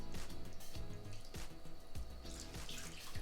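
Two cups of water poured into the drip tray of a Power Smokeless electric indoor grill, with a steady close splashing trickle and a few sharper knocks and clatters.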